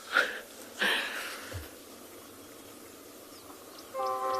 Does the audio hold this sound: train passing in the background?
yes